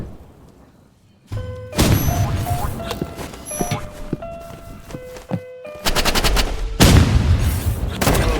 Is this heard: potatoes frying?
no